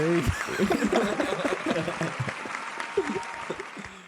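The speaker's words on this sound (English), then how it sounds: "I need that clapping sound." Applause sound effect played on a podcast, rippling claps lasting a few seconds with people talking over them.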